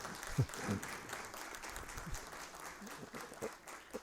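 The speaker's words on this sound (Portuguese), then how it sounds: "para quem eu peço uma salva de palmas" Applause at an engineering event's opening ceremony, a faint, distant wash of clapping with a few louder nearby claps and some voices underneath.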